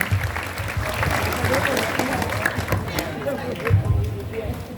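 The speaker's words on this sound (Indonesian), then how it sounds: "Tepuk tangan dulu." Students applaud at a school Maulid Nabi commemoration at SMPN 141, a steady clapping crowd with babble and voices mixed in throughout.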